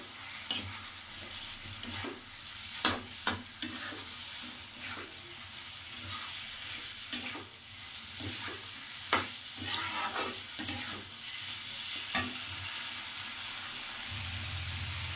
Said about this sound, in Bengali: এবার ভালোভাবে নেড়ে নিতে হবে।